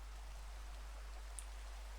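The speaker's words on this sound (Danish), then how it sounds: "Og lidt regnvejr." Steady, faint rain hisses evenly with no break in a Minecraft-style video game, soft and distant, with a low constant hum beneath and no voices.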